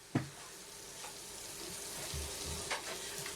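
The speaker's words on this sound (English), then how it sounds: "Mix all the flour in." Flour being stirred into melted butter in a frying pan, a steady soft sizzle with a few scraping stir strokes, close and fairly quiet, no voices.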